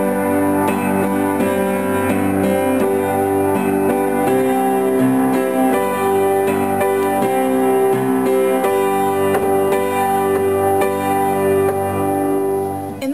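A piano plays the wacky bridge, a continuous stretch of sustained chords and notes ringing out steadily and fairly loud, with no talking.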